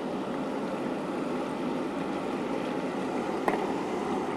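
Water is poured into a pot of rural-style braised pork with scallion, ginger, garlic, chili bean paste, dried Sichuan peppercorns, chilies and spices. A steady, even rushing hiss runs throughout, with one brief clink near the end and no talk.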